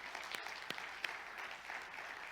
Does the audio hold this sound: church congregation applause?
yes